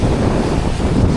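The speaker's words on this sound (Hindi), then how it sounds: "इतनी ज़ोर की हवा चल रही है और बोट्स पूरी हिल रही है बीच पे। हाई टाइड है एकदम।" Strong wind buffets the microphone on a Punta Cana beach in the Dominican Republic at high tide, with surf rolling in and boats rocking nearby. It is a loud, continuous roar with no talking.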